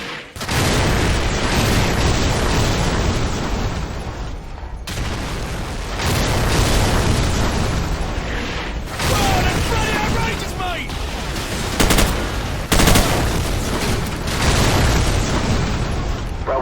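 Loud, close artillery explosions boom and rumble almost continuously in a Call of Duty 4: Modern Warfare battle, with repeated heavy blasts and crackling debris piling over one another.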